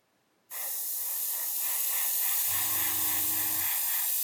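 A spray gun with a 0.2 nozzle sprays primer, a sudden, steady hiss that starts after a short silence and holds, with a low hum joining briefly midway.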